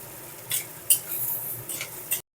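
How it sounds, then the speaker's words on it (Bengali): Onion slices cut fairly thick, fried to light brown in a pan for a cauliflower and potato bhaji, stirred with a utensil: soft low sizzle under a few sharp scraping clinks, close and moderately quiet. "পেঁয়াজটাও এদিকে ভাজা হয়ে গেছে হালকা ব্রাউন কালার হয়ে গেছে"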